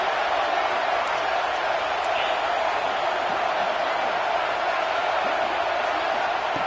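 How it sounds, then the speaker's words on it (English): A packed college football stadium crowd roars in a dense, continuous wash of sound, loud and steady throughout, with scattered faint whoops rising from it. "Listen to the crowd energy here in the early going."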